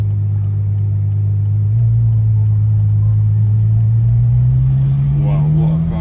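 A Ferrari F12 Berlinetta pulls away on a test drive, its engine a loud, smooth drone heard from inside the cabin, pitch climbing steadily as it accelerates toward the end.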